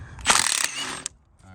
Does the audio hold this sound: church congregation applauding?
no